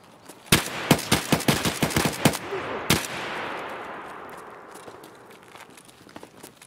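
A burst of gunshots in Escape from Tarkov, about a dozen sharp cracks fired in quick succession, then one more shot after a short pause, echoing and fading into a long tail.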